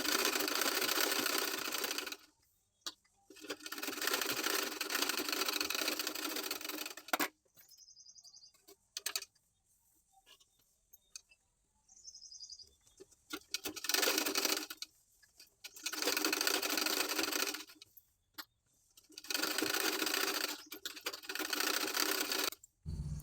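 A sewing machine stitches blouse lining to the main fabric at the armhole, running in several long steady bursts separated by quiet pauses, close and clear with no talk.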